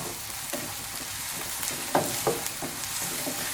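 Onions sautéing in a pan for egg bhurji give a soft, steady sizzle throughout, with a couple of brief louder spatters or stirring knocks near the middle and no voices.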